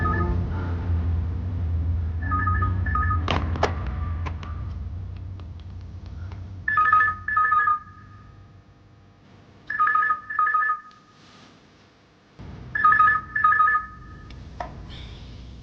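A telephone ringing in a tense indoor scene of a Hindi crime drama: repeated electronic double-burst rings spaced a few seconds apart, loud and close, after an opening stretch of low rumbling music and a few sharp clicks.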